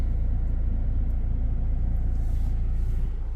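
A 2017 Toyota Fortuner VRZ 4x4 TRD engine idles steadily up close, giving a constant low rumble with no speech and no noticeable revving throughout.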